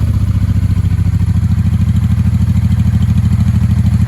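A Honda Sabre V4 750 motorcycle engine, still not fully warmed up, runs steadily nearby with a loud, even, rapidly pulsing rumble and a clattery mechanical edge throughout.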